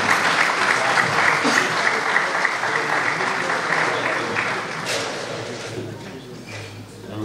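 Lively applause from a crowd for a traditional carnival group performing a bailinho, loud and dense at first, then thinning and fading toward the end.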